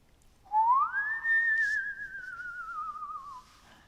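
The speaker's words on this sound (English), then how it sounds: "Weird, warbling whistles drifted out of another hole in the ground." A single long warbling whistle rising then slowly falling, loud and alone, eerie as if drifting from a hole in the ground.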